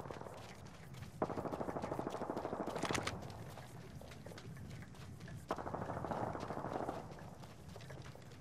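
Rapid automatic gunfire in the battle royale shooter Apex Legends, two sustained bursts of fast, loud shots separated by a lull, with scattered single shots and game noise around them.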